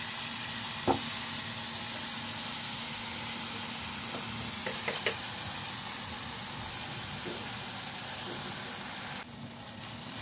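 A paste of tomato, ginger, green chili and ground peanuts fries in a pan, giving a continuous close sizzle with a few sharper pops and scraping stirs, then a sudden drop in level near the end.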